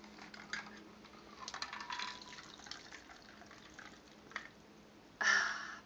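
Vodka martini poured from a cocktail shaker, a faint thin trickle of liquid with light clinks, ending in a brief louder splash.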